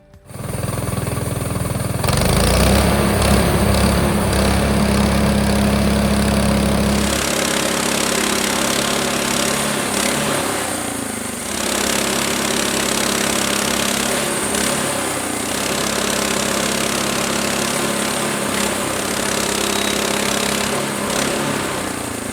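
Frontier OS18 sawmill engine running while cutting straight-grain quartersawn ash lumber, a loud steady drone that drops to a lighter mechanical hum after the cut, continuing without talk.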